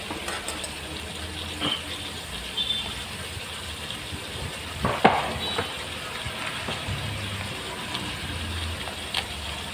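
Squid adobo simmers and sizzles in a home frying pan with water released from the squid, a steady close hiss broken by a few light clinks of stirring and no voices.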